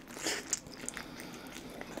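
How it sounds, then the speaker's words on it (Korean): Crispy glutinous rice sweet and sour pork (guobaorou) being bitten up close, with a sharp crunchy bite followed by a few smaller crackling crunches and soft chewing. "이게 먹는 게 바삭하면서 되게 쫀득해요."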